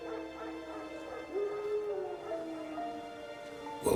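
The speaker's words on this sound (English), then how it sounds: "Wolves? No. Wild dogs. Yes. More dangerous than wolves." Wild dogs in The Witcher 3 give out whining, howling calls with falling pitch, set against a steady game backdrop of music and ambience, with no talk over them.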